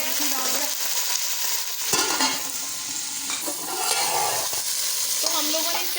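Minced meat (keema) sizzles loudly in a pan over deeply browned onions, with steady close frying hiss and scraping stirs throughout, for a Pakistani-style keema pulao.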